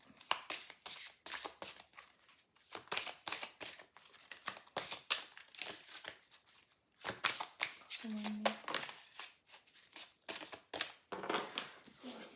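Oracle cards are shuffled repeatedly in the hands, a rapid close riffling and flicking in bursts throughout, while someone talks over them.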